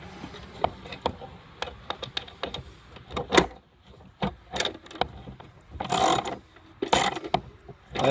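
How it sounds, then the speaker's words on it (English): A 3/8 ratchet with a swivel and 12mm socket snugs bolts during heater core and dash work on a Kia Soul: irregular bursts of close clicking and mechanical rattles separated by short pauses. "Just going to go ahead and tighten these up."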